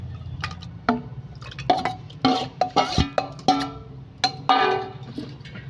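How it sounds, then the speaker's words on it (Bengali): Wet, squishy clatters come close and clear as marinated mutton is dropped piece by piece into a pressure cooker. The irregular plops and metallic taps are scattered over several seconds, with a low hum underneath. "প্রেসার কুকার নিয়েছি, প্রেসার কুকারে মাংসগুলো দিয়ে দেব।"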